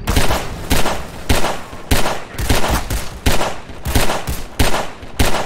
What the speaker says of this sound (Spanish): Suenan un poco raros los disparos de...